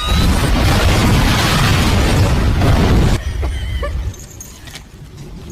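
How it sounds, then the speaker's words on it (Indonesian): A bomb explosion in a film: a loud, sustained roaring blast fills the first three seconds, then cuts off abruptly into quieter rumbling and faint debris-like noises. "lolos dari ledakan tersebut"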